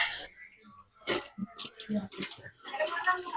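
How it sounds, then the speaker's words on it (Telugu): Tap water runs and splashes in bursts while a small chai strainer is rinsed at a sink, close and uneven, with brief pauses between gushes. "ఇది నేను వాష్ చేద్దాం కొద్దిగా"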